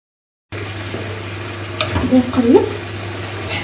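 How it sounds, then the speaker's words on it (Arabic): Sliced button mushrooms and chicken pieces sizzling in a pan, a steady close frying hiss with soft stirring scrapes and a brief burst of bubbling partway through. "نقلب حتى يهبط هذا الشامبينيون"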